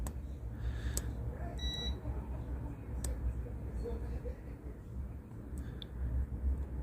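Multimeter continuity tester beeping while probing a fuse on a Huawei P9 phone board, a few short faint high tones over a low background hum.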